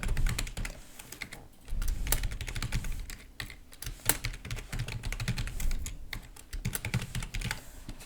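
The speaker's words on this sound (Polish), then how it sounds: "Ja chcę stworzyć sobie własne wartości i wpiszę sobie tutaj jakieś miejscowości" Fast, uneven keystrokes on a computer keyboard as town names are typed into an Access table, close and clear, in short bursts with brief pauses, no voices.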